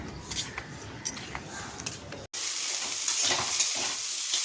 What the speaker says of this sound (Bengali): উচ্ছে, আলু আর কুমড়ো, পেঁয়াজ, লঙ্কা সব একসঙ্গে ভাজা ভাজা করবো।